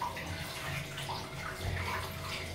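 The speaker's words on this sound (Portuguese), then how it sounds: "Agora a senhorita vai tomar banho, dona Rebequinha" Water from a household shower runs steadily and close by, filling for a bath, a continuous broadband hiss with a faint low hum and no voices.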